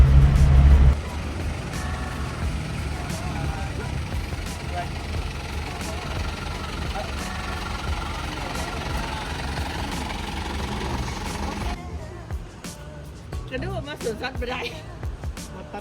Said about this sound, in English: Now we're in our red truck going to the zoo just to catch another red truck